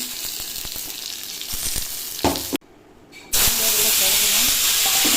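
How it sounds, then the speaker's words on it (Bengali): Cumin seeds and bay leaves dropped into a little hot oil in a kadai burst into a loud, close hiss after a short quiet gap, then keep sizzling steadily. "জিরে আর তেজপাতা দিয়ে দিলাম একসঙ্গে"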